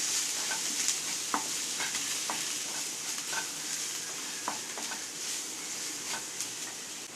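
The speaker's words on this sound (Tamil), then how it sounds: "இது எல்லாத்தையும் நல்லா கலந்து விட்டுக்கலாம், நல்லா கிளறிக்கலாம்" Chicken masala and turmeric are stirred in a pan for soya rice, producing a soft continuous sizzle with regular, distinct spatula scrapes and taps close by and no talking.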